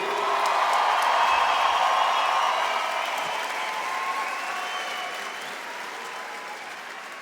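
A large concert crowd at the Hammersmith Apollo in London gives a long, dense roar of applause and cheering that stays steady and then fades slightly, with no talk over it.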